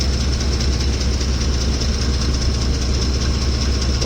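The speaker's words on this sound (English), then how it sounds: "I do have to believe this is some kind of timing chain issue." A truck engine with a suspected loose timing chain runs hot, giving a steady, loud mechanical drone with a constant low rumble and even whine, heard alone.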